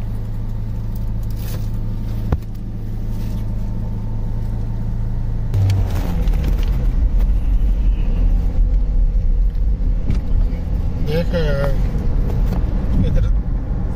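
Car traffic moves along a city street in Kuwait City lined with expensive cars, giving a steady loud engine rumble with vehicles passing close by while someone talks over it.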